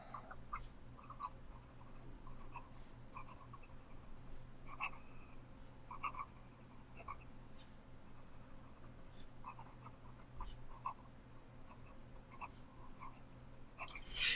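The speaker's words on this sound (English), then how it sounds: "it really does a good job at keeping up with fast writing" Vintage Sheaffer Reform 1745 fountain pen writing fast on paper, a close, quiet scratching of nib strokes in quick bursts with brief pauses between words, no talking.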